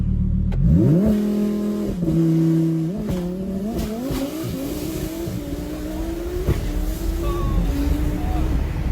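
A roughly 1,800 horsepower twin turbo RS car revs up close and loud, its engine pitch sweeping upward and then holding a strong, slightly wavering high drone as it accelerates.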